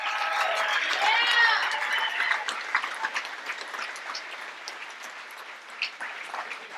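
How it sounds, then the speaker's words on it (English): A crowd at an outdoor surfing Walk of Fame induction ceremony applauds and screams for the inductees, shrill cheers and whistles over clapping at first, then thinning to scattered, fainter claps. "Can you give them the biggest round of applause and scream for them?"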